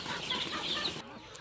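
A desi free-range chicken clucks nearby, a short run of soft calls over a noisy background that drops away near the end.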